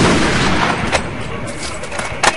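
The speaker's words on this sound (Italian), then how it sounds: "Oh, io sparo, dimmi se vedi il proiettile passare nella mappa." Gunfire in the blocky shooter Ace of Spades, a few sharp shots cracking over a loud noisy in-game background, the last pair close together near the end.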